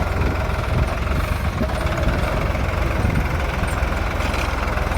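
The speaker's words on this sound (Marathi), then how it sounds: "असे दगड असल्यामुळं हे काय छोट्या ट्रॅक्टर निघत नव्हतं, मग हे आता हे मोठा ट्रॅक्टर बोलावला आहे" A large tractor ploughing stony fallow land after rain, its engine a loud, close, continuous low rumble with a rough knocking texture that holds steady throughout, with no voices.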